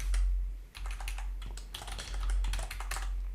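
Rapid, uneven keystrokes clatter on a computer keyboard while data is entered into a spreadsheet, clicks bunched close together and near, with no talking.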